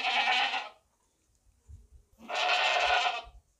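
A sacrificial goat bleats loudly and close by, two long strained cries with a short quiet pause between them, alone without talk.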